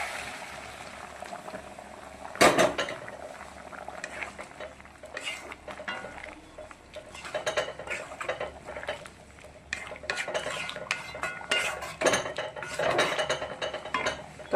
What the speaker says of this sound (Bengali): পানিও আমার টকবক করে ফুটেছে